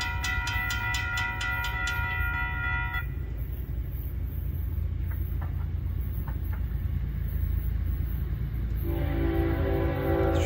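A Florida East Coast Railway train rumbles past steadily while its horn sounds in long blasts at the start and again near the end, the rolling noise continuous and loud throughout.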